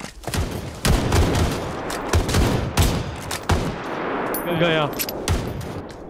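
Rapid gunfire from PUBG Lite in team deathmatch play, with repeated sharp shots in bursts and clattering reload sounds. A voice speaks briefly over the shooting.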